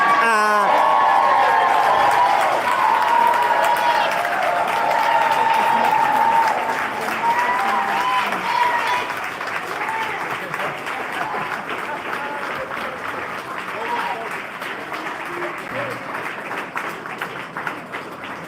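Loud, sustained applause from a crowd at a village board meeting, dense clapping with a few whoops that holds steady and slowly tapers while staying continuous throughout.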